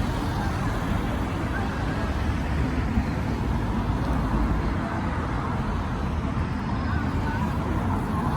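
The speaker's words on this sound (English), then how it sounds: "Traffic's very noisy." Road traffic rolls along Blackpool seafront near North Pier, a loud, unbroken roar of passing cars and buses forming a dense low rumble with faint background voices mixed in.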